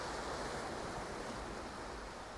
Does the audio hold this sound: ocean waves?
yes